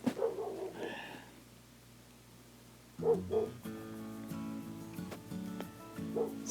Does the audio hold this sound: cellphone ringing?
no